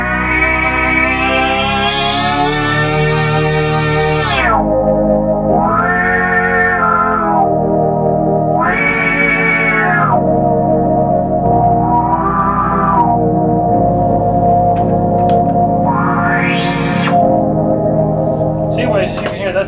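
A Polymoog 203a synthesizer undergoing restoration plays sustained notes while pitch and filter sweep together, producing repeated rising and falling swoops in brightness and pitch that run loud and continuous without a break.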